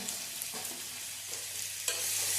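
Cut papaya and potato pieces are tipped into a pan of frying tomatoes, giving a steady hiss of oil with a few stirring scrapes and a brief surge of sizzle near the end. Nearby and fairly quiet, with no voices.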